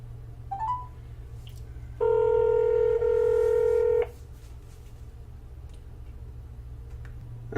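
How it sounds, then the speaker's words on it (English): Telephone touch-tone dialing: a steady two-second burst of dial tones over a low hum, followed by quiet line noise, with no talking. "So you guys heard me calling people back."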